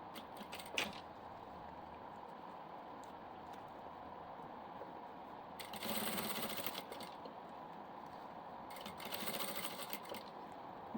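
A sewing machine stitches fabric for a portable diaper bag with changing pad, running steadily and quietly throughout with two louder bursts of faster stitching.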